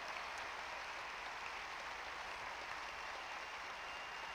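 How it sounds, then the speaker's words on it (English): A tennis crowd at a professional match in Cincinnati applauds and cheers steadily, a broad, even wash of distant clapping that holds constant without a break. "acknowledging the cheers of the crowd"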